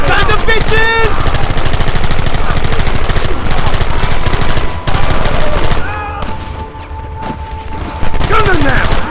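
In a shootout in the video game Red Dead Redemption, rapid, dense gunfire rattles loudly and almost without pause, with sharp cracks throughout and shouting voices mixed in.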